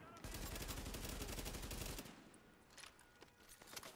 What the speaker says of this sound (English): Maintain heavy fire.